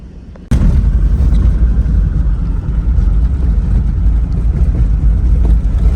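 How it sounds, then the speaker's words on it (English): Toyota Land Cruiser LX V8 rolling along a gravel road in the Namib Desert's NamibRand Nature Reserve, a loud, steady low rumble of engine and tyres on loose stones that starts suddenly and continues without pause. "this car drives really well on gravel road"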